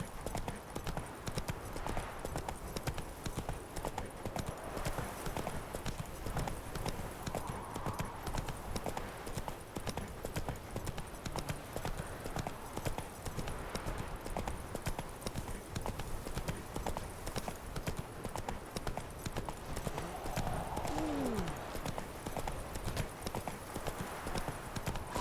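Horse hooves clip-clop in a steady, continuous rhythm as Roach trots through The Witcher 3: Wild Hunt game, up close under an even wash of ambient sound, with a brief whinny-like call near the end.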